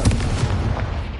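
A Confringo explosion spell goes off in the Hogwarts Legacy video game, a single loud, close, deep boom with a rumbling tail that sustains to the end of the clip.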